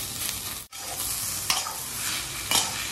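Spiced potato filling for batata vada sautéed on low gas, a steady close sizzle with scraping stir strokes and a couple of brief louder clatters against the pan.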